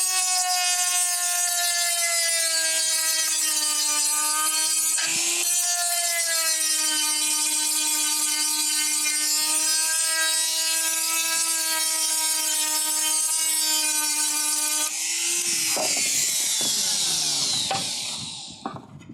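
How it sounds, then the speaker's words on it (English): A power tool whines at a steady high pitch while beveling the fiberglass edge of a louver panel on a 1968-69 Corvette, one long sustained grind that breaks into rough scraping and rattling near the end. "when you get it all the way down to where you want it, you just bevel that back"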